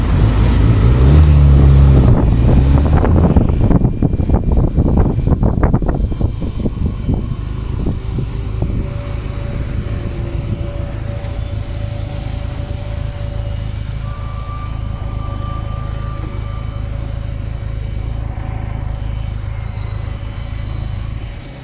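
Benelli TRK 502 motorcycle at top speed, a loud steady engine drone mixed with heavy wind rush, busiest in the first few seconds, then settling into a constant high-speed roar with a faint whine.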